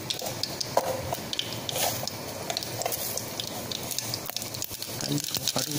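Mustard seeds spluttering in hot oil while a South Indian brinjal karakuzhambu is cooked, a continuous crackling sizzle with sharp pops scattered through, a person speaking over the frying.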